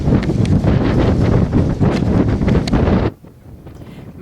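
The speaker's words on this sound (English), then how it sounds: "Gust, they're forecasting 55 knots." Strong wind gusts roar and buffet the microphone during a storm at anchor in Hawaii, a loud continuous rush that drops off abruptly near the end.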